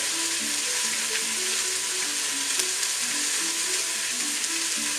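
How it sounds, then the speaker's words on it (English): Chopped swede, parsnip and carrot sizzle in hot fat in a Tefal pressure cooker, a steady close crackling hiss with faint stirring and no talk. "Then in with the swede, parsnip and carrot."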